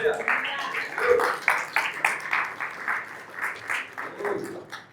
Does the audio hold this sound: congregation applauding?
yes